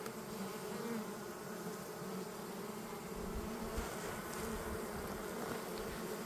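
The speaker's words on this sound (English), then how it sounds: "Amount of bees here is just insane" Dense, steady buzzing of a large honey bee swarm at a mini mating nuc, a continuous droning hum close by with no pauses and no talk.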